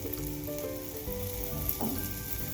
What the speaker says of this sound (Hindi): चारों साइडों को मैंने फ्राई कर लिया है